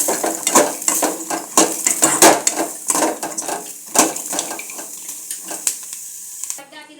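Garlic frying in a pan for idli chutney brings rhythmic clinks and scrapes of a metal spatula against the pan over a faint sizzle, close and sharp, with the strokes thinning toward the end.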